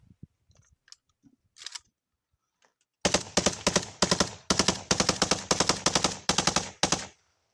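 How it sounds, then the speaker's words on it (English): Gunfire in a sparse firefight during the war in Ukraine, near Russian forces in wooded terrain: a few faint scattered cracks give way to rapid loud bursts of automatic fire, rhythmic and close, ending abruptly. "So we do know that they're in a firefight."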